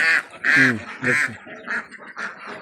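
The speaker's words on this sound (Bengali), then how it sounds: "দেখেন কত হাঁস" Several loud, close duck quacks on a duck farm in quick succession, harsh nasal calls with short gaps between them.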